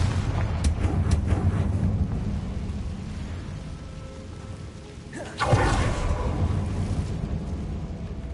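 A Confringo fire spell goes off in a video game, a sudden loud blast around the middle that rolls into a sustained rumbling roar over a steady low background rumble.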